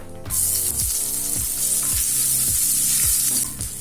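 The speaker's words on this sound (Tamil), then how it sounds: "இப்போ சின்ன வெங்காயம் நல்லா வதங்கிடுச்சுங்க." Small onions sizzle and fry in hot coconut oil with dried red chillies and curry leaves, a loud steady crackle with regular scraping stirs roughly every half second throughout.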